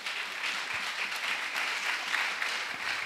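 Steady applause and acclamation from a large congregation at a national missionaries' retreat in Côte d'Ivoire, dense continuous clapping filling the whole moment with no voice over it.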